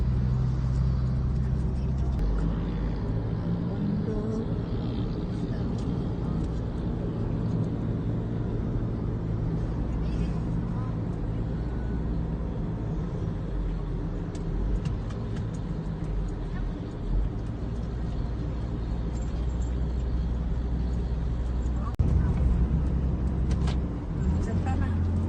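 A car being driven gives a continuous low engine and road rumble inside the cabin, with voices talking over it throughout.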